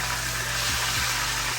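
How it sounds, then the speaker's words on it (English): Fish fillets frying two at a time in hot oil for a brown stew fish, a dense continuous sizzle with a low steady hum underneath, close and unbroken. "I'm frying 2 at a time because you don't want to cool the oil down too much."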